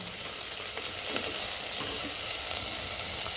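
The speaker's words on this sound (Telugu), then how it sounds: "స్టవ్ పెద్దగా పెట్టుకొని ఎర్రగా ఫ్రై చేసుకోవాలి" Brinjal and tomato curry vegetables with green chilli, coriander, mint and curry leaves fry in a pan on high heat, giving a steady, close, even sizzle with no voices.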